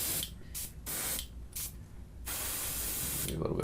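Airbrush spraying paint onto cardboard tabletop terrain, close hissing bursts that start and stop in several short pulses before a longer continuous spray, with no talk.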